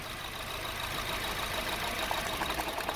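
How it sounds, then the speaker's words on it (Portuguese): A Honda Civic engine idles roughly and misfires with an ignition coil pulled. It runs as a continuous low mechanical rumble with uneven knocking and fluctuating revs, moderately loud and with no speech. "Vou afastar a primeira bobina e ver se ele oscila mais que os outros. Ó, o motor vibrou bem mais, ó, mudou até a rotação."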